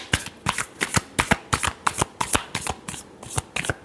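Tarot cards shuffled by hand in a steady riffling rhythm, about a dozen crisp close bursts of papery flutter over a few seconds, with no voice over them.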